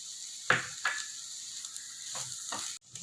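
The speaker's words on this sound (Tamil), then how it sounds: "இப்போது தனி மிளகாய் தூள் ஆட் பண்ணி இதையும் ஒரு 2 நிமிஷம் போல் நல்லா வதக்கிக்கலாம்." Vegetables dusted with chilli powder sauté in a pan for a sandwich filling, giving a steady sizzling hiss broken by a few scraping spoon stirs, close and moderately loud with no talking.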